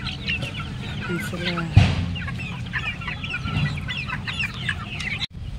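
Chickens and chicks cluck and peep in a busy farm pen, with a sharp knock partway through and someone speaking briefly.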